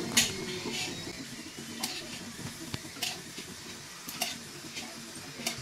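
Food frying in a pan while a bitter gourd and greens dish is cooked, a soft sizzling hiss throughout with sharp crackles and spatters popping now and then, fairly quiet and close.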